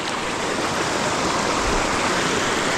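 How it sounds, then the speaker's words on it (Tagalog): A swollen stream in rural farmland rushes as floodwater after rain, with a steady, loud, broadband roar of churning water and no pauses. "Mga kautol, ang laki ng tubig, o ba?"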